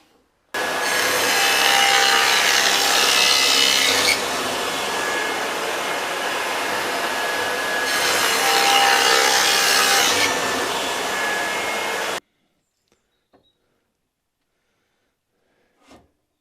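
A table saw on an Incra crosscut sled cuts a rabbet in wood with a loud, sustained whine that swells twice during the passes, then stops abruptly, followed by near silence and a couple of faint knocks.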